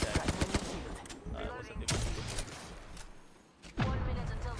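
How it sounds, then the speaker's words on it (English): Bursts of rapid gunfire in a ranked competitive shooter game, several sharp volleys close and loud, separated by brief quieter gaps. "I'm going to shoot this guy."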